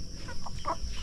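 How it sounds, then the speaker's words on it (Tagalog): Chickens clucking nearby on a farm, a few short close clucks in quick succession against low background noise, with no talk. "Tugon mo ng manok."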